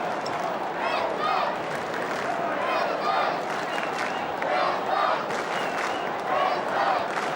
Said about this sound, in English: Huge Brisbane crowd really getting their money's worth here.